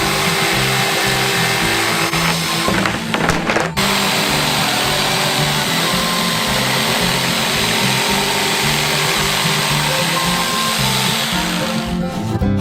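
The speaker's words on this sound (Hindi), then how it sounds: "एक इलेक्ट्रिक आरे के साथ इसे काट लेंगे" An electric saw cuts through a large handmade form shaped like a giant KFC bucket, running loud and steady with a buzzing, grinding drone. It is close and continuous, with a brief dip partway through, and nobody talks over it.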